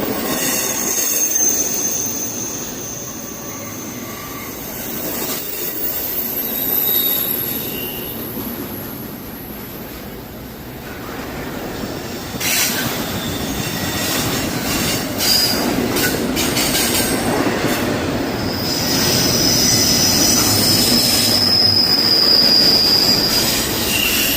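A very long freight train rolls past, its wheels squealing in high, sustained shrieks over a constant loud rumble and clatter, with no voices.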